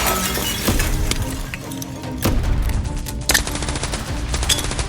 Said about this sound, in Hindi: रितिका ने अपनी पिस्टल बिजली की तरह निकाली और 2 गोलियां चलाई